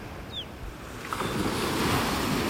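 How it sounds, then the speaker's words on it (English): Ocean waves break on a beach in North Naples, Florida, the surf rising into a louder, sustained wash of rushing water along with wind, with a brief faint bird call early on. "over the waves"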